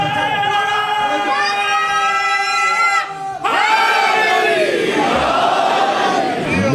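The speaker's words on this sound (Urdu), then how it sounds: "ایک مل کے نعرہ لگا دیں" At a majlis gathering, a large crowd chants a religious slogan together in loud, sustained unison. A brief dip in the voices is followed by a renewed, overlapping surge of shouting that fills the hall.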